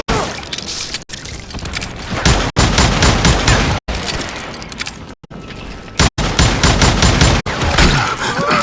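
Gunfire in the western shooter game Call of Juarez Gunslinger, with loud bursts of rapid shots in repeated volleys separated by brief silent cuts, close and dense.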